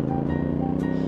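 Stock exhaust of a CF Moto 450NK naked motorcycle while riding, a steady, close engine drone with a low pulsing hum and a firm tonal note, brief and continuous with wind rush underneath.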